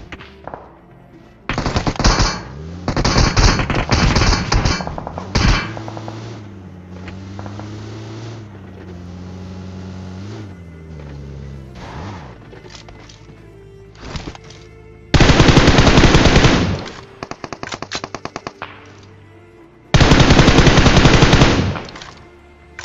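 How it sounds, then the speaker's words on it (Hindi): Rapid automatic gunfire from M416 and M762 rifles in a battle royale game, several long dense bursts loud and close, separated by quieter stretches of vehicle engine drone. "अब भाई मेरे को शॉट्स आने लगते हैं यहाँ पे।"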